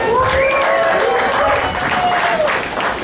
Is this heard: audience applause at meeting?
yes